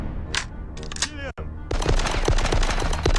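Rapid gunfire in a video game speedrun as enemies are shot, a loud sustained stream of shots following a short stretch of speech.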